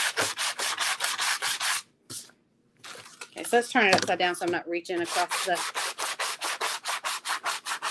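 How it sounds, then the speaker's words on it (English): Rapid, steady rubbing of sandpaper on a wooden door hanger's edges, close up, pausing briefly while a person speaks, then continuing in quick even strokes. "So I'm just sanding. I'm making sure I'm getting the edges really good."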